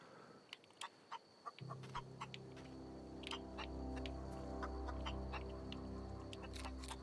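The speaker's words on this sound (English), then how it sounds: "Chicken!" Chickens cluck in short repeated bursts in the video game The Outer Worlds, heard over a steady game ambience of droning music and background hum.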